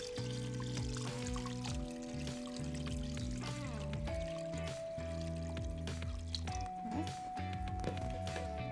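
Water pours and splashes steadily into a pot, with trickling and gurgling under a bed of sustained background music.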